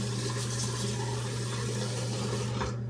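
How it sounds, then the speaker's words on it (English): Water running from a tap while a face is rinsed before shaving, a steady close hiss and splash that stops just before the end. "I'm gonna rinse my face and get going."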